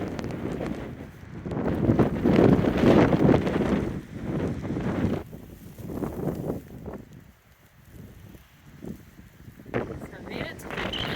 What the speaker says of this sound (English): It was extremely windy. Very cold.